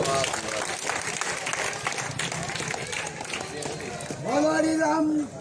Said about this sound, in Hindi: जोरदार तालियां बजा करके